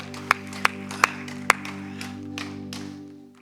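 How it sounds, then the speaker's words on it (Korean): At a church evening revival service, a few sharp, scattered claps ring out, then thin into a sparse patter that fades away; faint and brief rather than a full ovation. "우리 하나님께 영광의 박수 드립시다."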